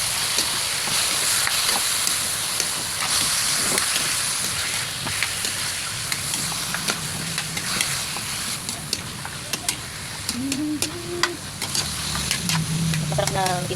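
Chicken pieces sauté in hot oil in a pan for a ginger-heavy tinola. A steady crackling sizzle carries sharp pops and occasional stirring scrapes, with a voice talking faintly underneath.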